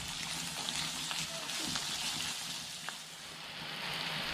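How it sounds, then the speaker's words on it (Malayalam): Sliced onions sizzle in a pan after a pinch of salt goes in, a steady, fairly quiet hiss with light stirring scrapes and no talking. "കുറച്ച് ഉപ്പ് ഇട്ട് കൊടുത്തിട്ട് നമുക്ക് വഴട്ടാം."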